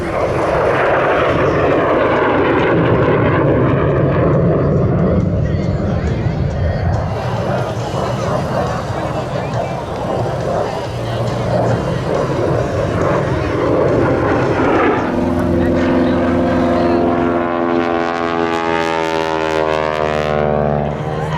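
Aerobatic plane flying a minimum radius turn at an air show in Hammond, Louisiana: a loud engine drone that shifts in pitch as it banks, with a Doppler sweep near the end and crowd babble and commentary over it.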